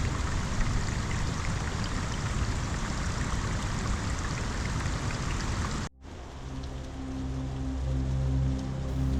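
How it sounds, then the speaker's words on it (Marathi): Heavy rain near Bhorgiri fort pours steadily in a dense, loud wash, then cuts abruptly to a quieter patter of rain with low rumbling underneath. "पाऊस खूप आहे भरपूर पाऊस आहे"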